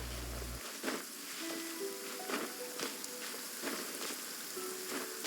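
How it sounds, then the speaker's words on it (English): Steady rain patters across the scene in the video game Genshin Impact, a continuous soft hiss with scattered droplet hits and faint game tones layered on top. "Oh no, it's raining."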